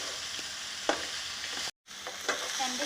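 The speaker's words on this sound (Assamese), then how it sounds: "भेंडीखिनि দি মই এতিয়া অকমান টাইম 2 মিনিট সময় ইয়াত ফ্ৰাই কৰি লম।" Sliced okra fries in a pan with a steady, close sizzle and occasional stirring scrapes, briefly cut by a moment of silence before the sizzling resumes.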